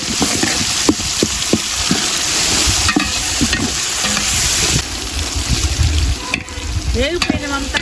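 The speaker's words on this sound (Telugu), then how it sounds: "ముందు అల్లం తెల్లగడ్డ పేస్ట్ వేయించుకున్న తర్వాత టమాటాలు వేసుకొని బాగా వాచుకోవాలి." Ginger garlic paste and tomatoes fry loudly in a pan, with a constant close sizzle broken by scraping stirs and clinks of a spoon, for a spicy brinjal biryani.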